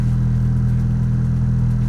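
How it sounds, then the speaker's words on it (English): A turbocharged Honda Civic project car idles while warming up, holding a steady, even low-pitched engine hum with a slightly raised idle and no revving or talking. "it's just been sitting here idling, and it's kind of idled up a little bit, warming up"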